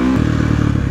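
A KTM 450 SXF motocross bike's engine drones loud and close on a test ride, a steady throbbing rumble with a brief higher whine at the start.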